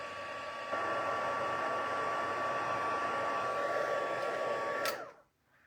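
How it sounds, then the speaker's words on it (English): A heat tool melting embossing powder on a Christmas card, blowing a steady, loud whooshing hiss for about five seconds before switching off and winding down. "you can always heat from the back, so then the heat tool is actually not blowing on the embossing powder"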